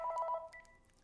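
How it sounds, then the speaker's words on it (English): A telephone rings indoors during a hurricane weather broadcast, a short electronic trill of rapid repeated tones that cuts off after a moment, moderately loud with a faint tail. "I apologize for the phone."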